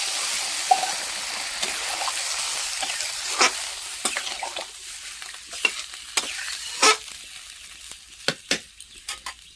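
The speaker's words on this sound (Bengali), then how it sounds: "এবার দিয়ে দেবো জল, পরিমাণ মতো জল দিয়ে দিলাম" Water goes into chicken masala sautéing in a pan, raising a loud, hissing sizzle that fades as stirring scrapes and clatters in sharp, irregular knocks close by.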